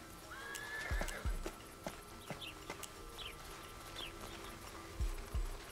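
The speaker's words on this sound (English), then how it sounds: "I hate horses" A horse in the video game Desperados 3 gives a short whinny, joined by scattered hoof clops and light thuds over a quiet outdoor ambience with faint bird calls.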